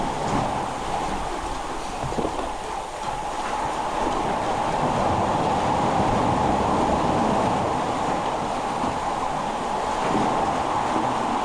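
Rough ocean water churns and rushes continuously around a kayak on the way to Catalina Island, a steady broad wash with wind, fairly loud and close, no voices.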